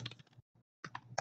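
Quick keystrokes on a computer keyboard, a burst of close, crisp clicks, then a short pause and a single tap, followed by another brisk run of taps, alone and quiet.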